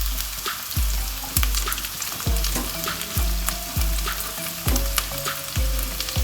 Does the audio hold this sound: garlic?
yes